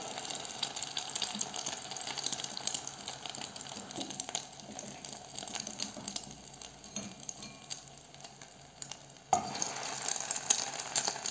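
Chbah essafra, an Algerian Constantine-style pastry dipped in egg white, frying a second time in hot oil, a steady fine bubbling sizzle with a louder burst near the end, close and fairly quiet, with no voices.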